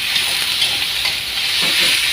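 Chicken stir-fries in a hot wok for Thai basil pad kaprao, giving a loud, continuous hissing sizzle with faint scraping stirs and no talk.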